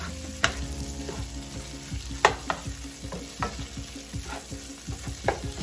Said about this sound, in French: Je suis en train de le frire avec le beurre.